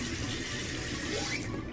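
Water runs steadily from a sink faucet while a young child's hands are washed, a close, continuous splashing rush with no talking.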